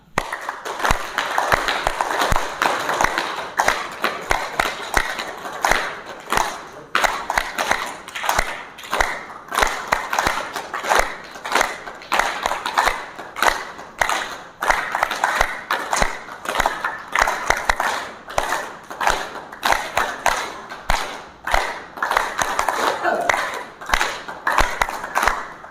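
A yoga class does yogic clapping, long runs of loud, rhythmic hand claps that pulse and swell in waves without a break, with little else heard.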